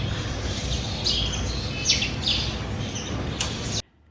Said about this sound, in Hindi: इतनी खूबसूरत आवाज़ें आ रही हैं चिड़ियों की, और ये इस दरख्त के अंदर बैठी हुई है